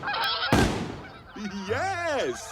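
Geese in flight honk on a goose hunt, rising and falling calls that follow a sharp blast, moderately close and clear.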